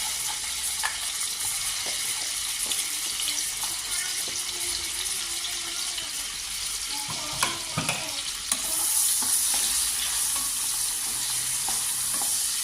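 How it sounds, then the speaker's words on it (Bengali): Dry fruits fry in a pan with a steady close sizzle while a utensil stirs and scrapes in repeated strokes, the frying growing a little brighter and louder toward the end. "ড্রাই ফ্রুটগুলো ভাইজা নেই বিসমিল্লাহ"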